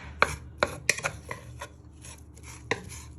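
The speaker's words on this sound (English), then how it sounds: "Just chopping it into pieces." Mince being chopped and broken up with a wooden spoon in a heating pan for an Italian beef soup: a run of sharp, close knocks and scrapes at an uneven pace, some louder than others, with no talking.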